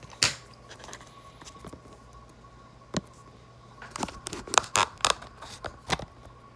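A sharp surgical knife cutting through material, heard as crisp scraping and snipping clicks, one at first and then a rapid close cluster of cuts, with no talking.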